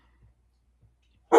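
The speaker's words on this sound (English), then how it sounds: "Dogs barking." A dog gives a single loud, close bark at the very end, following near silence broken only by two faint low thumps.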